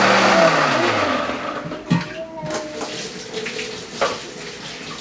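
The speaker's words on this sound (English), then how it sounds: "I'm going to grind this chili in the mixer for a second" A mixer grinder whirs as it grinds green chilies, a loud motor whine that drops in pitch and winds down within the first couple of seconds, followed by clinks and handling noises.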